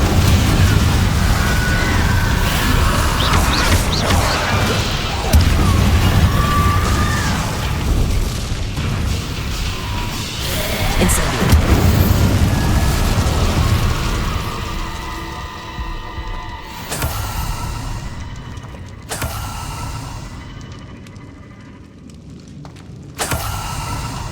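Repeated Confringo spell explosions in the Hogwarts Legacy video game, booming blasts and thuds layered over a dense, continuous battle din, with sharper bursts standing out near the end.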